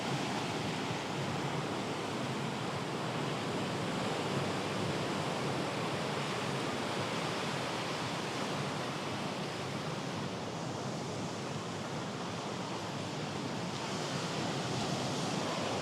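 Waves wash onto the beach at Stalis, Crete in a steady, continuous surf hiss with a low rumble, broad and even throughout with faint wind, no talking.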